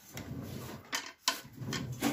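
Slow-close wooden drawers are pushed shut, giving several soft thuds and dull knocks with faint sliding in between, close-up and fairly quiet.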